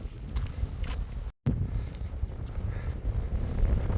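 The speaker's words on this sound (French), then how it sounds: "Donc là c'est toujours beaucoup de vent." Strong wind in open countryside roars and buffets against the microphone in continuous rough gusts, loud and close, with a brief cut of silence partway through.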